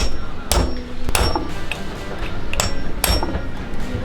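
Sharp metal hammer taps staking the edge of a saildrive locking nut into its groove, about five distinct strikes at irregular intervals, close and clear over a low background hum.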